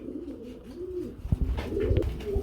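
Jacobin pigeons coo in low, rolling, repeated calls, fairly close, with soft rustling and faint background noise around them.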